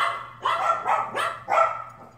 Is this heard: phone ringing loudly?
no